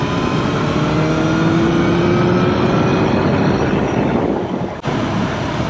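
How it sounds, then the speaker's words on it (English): BMW S1000R motorcycle engine pulling in sixth gear with the throttle opened, a loud steady drone with a slowly rising tone and wind rush, dropping off sharply near the end. "And just open that throttle up"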